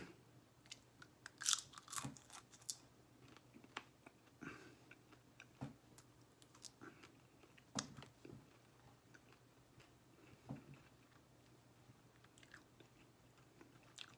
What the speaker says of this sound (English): Chew, chew, chew, chew, chew.